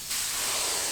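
A spray can or paint sprayer hisses out paint onto a rusty barrel being restored, a close, steady burst of bright airy spray starting abruptly and holding for under a second.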